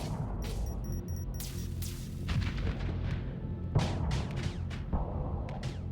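Fast missile racks firing in the video game Starsector, a rapid run of sharp booming launches and blasts layered over a constant dense rumble, with several distinct louder impacts landing in quick succession.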